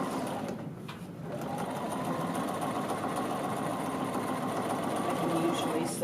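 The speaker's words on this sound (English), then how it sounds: "put in a row of stitching" A sewing machine runs a row of understitching on a neck facing with a steady, continuous motor whir and needle chatter, close and even, after a brief dip at the start.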